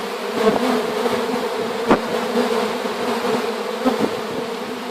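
Honeybees buzz around honey frames set out to dry after extraction, a dense, loud, continuous hum with a few brief louder swells as insects pass close.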